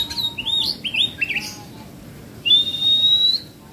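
An oriental magpie-robin (kacer) sings at a bird kiosk, giving a run of bright chirps and warbles followed by a long, clear whistled note, loud and close over a low background hum.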